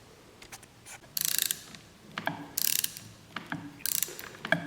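A ratchet wrench on a 7/16 Whitworth bolt of a 1955 Royal Enfield twin motorcycle clicks in quick bursts of rapid pawl ticks, close and crisp, repeated three times with small knocks between.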